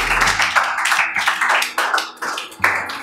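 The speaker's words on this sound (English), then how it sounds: "Let's clap for her." Schoolchildren clapping for a classmate during a school screening, a burst of loose, uneven handclaps from a group nearby lasting about three seconds.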